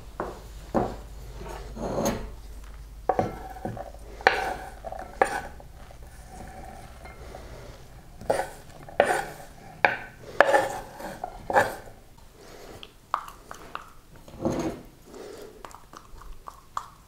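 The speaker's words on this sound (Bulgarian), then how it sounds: "Разбъркваме добре просената салата." A utensil stirs a millet salad with parsley, onion, turmeric and sauce in a bowl. Close, irregular scrapes, knocks and clinks come in bursts with short pauses in between.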